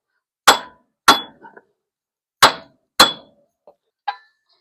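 Four sharp metallic hammer blows ring out at uneven intervals, driving a Jeep front hub off the axle shaft splines on a 1980s Jeep front axle, with a few lighter clinks between strikes.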